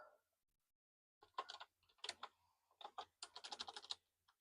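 Typing on a laptop keyboard: quick irregular bursts of crisp clicks close to the microphone, faint and alone after a brief murmur at the start.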